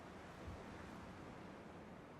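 Ocean waves wash in the video game Dear Esther as a soft, steady surf with a broad hiss, distant and faint, with no voices and no distinct breaks.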